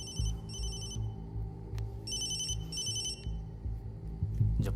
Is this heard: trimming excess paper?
no